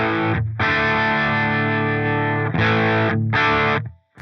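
A Friedman amp sim in AmpliTube 5 heard through a ribbon mic alone, with the 57 muted: loud, dense distorted electric guitar chords sustained for about two seconds, then two shorter chord bursts separated by brief gaps.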